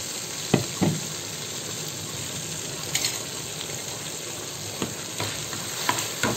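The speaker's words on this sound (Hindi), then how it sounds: "चला लेंगे अपने मसालों को।" Spices and yogurt are stirred in a hot pan, with a steady close sizzle and occasional sharp scrapes and clinks of the spoon against the pan.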